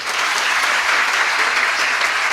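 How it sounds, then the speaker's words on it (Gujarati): A seated audience at a Gujarati public speech breaks into loud, dense applause for parents of several daughters, a continuous wash of clapping hands with no break. "આ મા બાપને એક વખત તાળીઓથી વધાવો"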